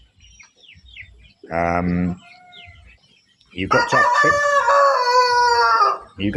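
Meat chickens, fast-growing broiler birds, cluck in a short burst and then crow in a long, loud rooster-style call, with someone speaking briefly near the start.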